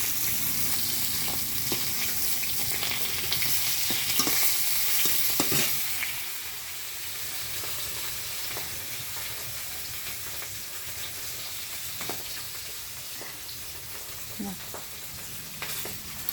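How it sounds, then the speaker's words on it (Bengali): A home cook in a village kitchen fries fish in a pan until reddish, giving a steady hissing sizzle with stirring scrapes, louder for the first few seconds and then settling to a softer, even fry. "মাছটা ভালো করে ভাজা হয়ে গেছে, মাছটা ভাজা হয়ে গেছে, একটু লাল লাল করে ভেজে নিচ্ছি মাছটা"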